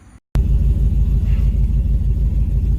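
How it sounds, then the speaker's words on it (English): A cammed 4WD Ram truck on a test drive, its gutted, race-ready engine starting up after a brief silence into a loud, steady, lumpy low rumble that continues throughout. "We are going to take it for a test drive, and it's, you know, fully gutted, ready for the racetrack right now, so you can hear it."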